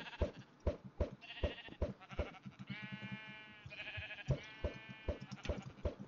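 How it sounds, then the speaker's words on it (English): Several sheep bleat in the Minecraft video game, sounding loud and close. The wavering, drawn-out bleats overlap and repeat against a busy game backdrop of short thumps and clicks. "Oh my god, sheep."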